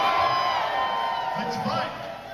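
Crowd cheering and whooping before a barroom-style brawl, a loud sustained roar of many voices with a rising shout near the end, steady and fairly close.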